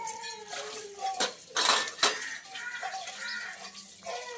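Dishes and utensils being washed in a home kitchen, with clattering clinks and knocks of pots and cutlery, a few louder bangs near the middle, close and moderately loud, along with running water.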